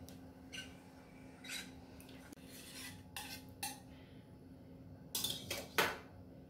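Oil being brushed inside a small metal pot used for egg dhokla, quiet scattered brushing and scraping strokes with light clinks of metal, close and soft, louder taps near the end.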